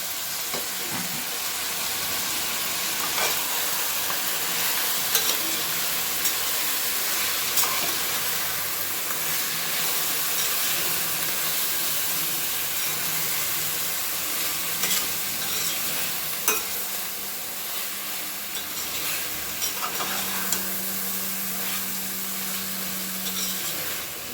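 Mint and coriander get stirred into chicken dum biryani frying in a pot, a continuous loud sizzle and hiss with occasional scraping clinks of the spoon, steady throughout, no talking.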